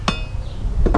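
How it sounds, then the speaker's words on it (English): A hammer strikes wood while a privacy fence is pulled apart for reclaimed lumber: one sharp, close knock at the start, then a second louder impact near the end, with faint background noise between. "get you a hammer"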